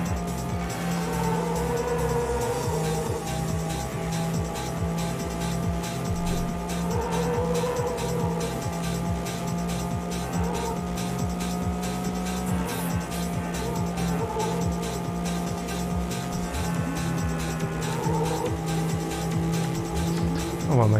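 Porsche race car engine in a racing video game, with track routes such as Normandie, Autobahn, Pyrenees and Alps, droning loud and steady with shifting revs throughout, someone talking over it.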